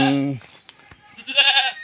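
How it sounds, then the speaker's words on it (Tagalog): A goat, a newly kidded Alpine doe, bleats loudly twice, a drawn-out wavering call followed by a second strained bleat after a brief pause, close to the listener. "Nanganak daw yung kambing ni Ma'am Che"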